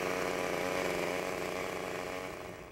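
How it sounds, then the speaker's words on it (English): A chainsaw runs at a steady, loud, close buzz at a fringe theatre festival in Winnipeg, fading slightly toward the end of the brief burst. "Take this chainsaw."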